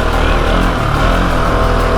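A Husqvarna 701 Enduro motorcycle's single-cylinder engine drones loud and close on rough off-road terrain, a dense continuous roar without speech.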